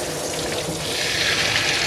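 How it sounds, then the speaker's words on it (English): Tap water runs in a steady, close splashing stream to rinse Louie, a Maltese dog, during grooming. "Now we're going to rinse."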